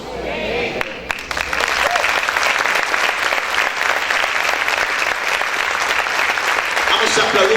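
A church congregation claps loudly and steadily throughout, a dense sustained wash of applause from a large crowd close by, with voices mixed in beneath it.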